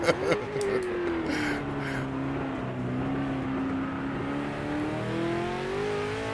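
V8 race car engine in the Project Motor Racing video game, a continuous close engine tone rising and falling as the driver works through revs, with a few sharp knocks at the start.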